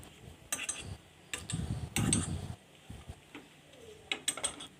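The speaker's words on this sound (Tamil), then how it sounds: "இது நல்லா கோல்டன் ப்ரௌன் கலரில் வர வரைக்கும் நல்லா வறுத்துடுங்க." Kothu parotta pieces frying and being stirred in a pan, with sharp scraping and clinking bursts of a utensil against the metal at irregular intervals over a quieter background.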